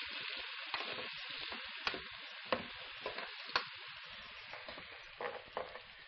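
Bitter gourd and glass noodles are stirred and fried in a pan for Filipino ginisang ampalaya, a steady close sizzle broken by several sharper scraping stirs and clinks, with no talking.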